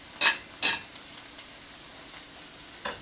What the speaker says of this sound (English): I'm sauteing a large onion that I chopped up